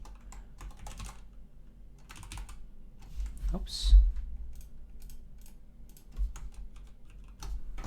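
Scattered bursts of key clicks from a programmable computer keyboard, quick uneven rattles of typing at close range with pauses between, while a person briefly speaks once in the middle.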